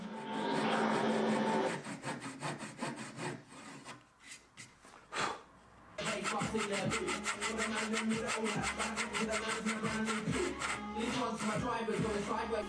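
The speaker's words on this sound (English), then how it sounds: "I can then cut down to the depth line using my saw." A tenon saw rasps through wood for a small ring box in repeated back-and-forth strokes, pausing briefly midway before resuming a steady sawing rhythm, close and moderately quiet.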